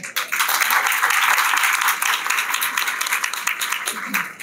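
A hall audience at a zootechnics symposium in Ceará breaks into loud, sustained applause, dense clapping that holds for over four seconds, with faint voices underneath.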